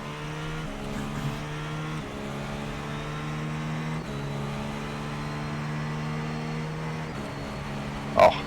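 Acura ARX GTP prototype race car in iRacing during a multiclass endurance race at Suzuka, a steady engine drone rising in pitch through each gear, with quick upshifts roughly every two seconds and a short sharp click near the end.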